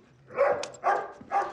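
Dog barking in a tense TV drama scene: three separate barks or yelps spaced roughly half a second apart, moderately close and fairly quiet, with no voices.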